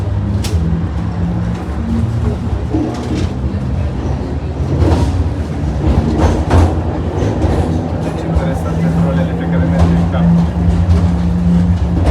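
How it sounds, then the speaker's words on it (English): Funicular F1 in Lyon pulling into St. Just station, a steady low rumble of the car on its track with scattered clatters and squeals, loud and continuous throughout. "Here I am arriving at the other end of funicular F1 at St. Just."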